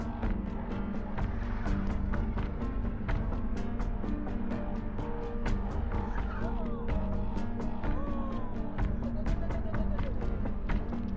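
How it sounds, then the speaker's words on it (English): A car drifts on a road in Saudi Arabia with its engine droning steadily and tires squealing and skidding throughout, loud and close. "shows a driver attempting a drifting stunt that ends horribly"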